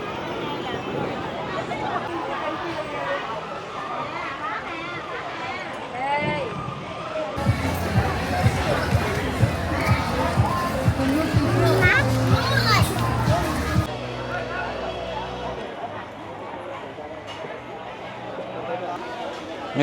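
Busy night-market crowd in Phu Quoc, a dense babble of many voices with children's calls, louder and fuller in the middle stretch, steady throughout.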